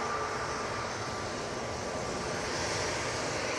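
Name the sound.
Pilatus PC-12 aircraft on final approach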